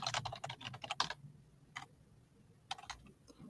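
Keys clack on a computer keyboard in a quick burst of close, crisp taps, then a pause broken by a few isolated keystrokes, with a faint low hum beneath.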